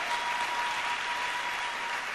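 A church congregation claps together in steady, dense applause that stays even and fills the room from start to finish.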